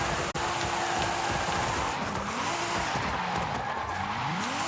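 Nissan Tsuru in Forza Horizon 5 drifting with low grip, engine droning steadily while tires squeal and skid in repeated rising whines.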